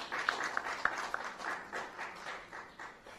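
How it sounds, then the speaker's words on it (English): Faint, distant applause from an audience at a government digitization signing ceremony, with a few sharper individual claps early and a soft, thin wash of clapping that tapers off. "I think that element deserves a big round of applause."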